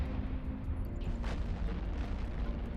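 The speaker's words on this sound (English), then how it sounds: "just getting to watch all the cool explosions" Muffled, rumbling explosions from the space game EVE Online during a level 4 mission, a continuous low boom with a brief brighter burst partway through, no talk.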